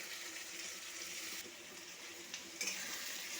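Spice paste with garlic paste sizzles and fries in a pan for Bengali chicken kosha, a steady, faint hiss with occasional stirring scrapes.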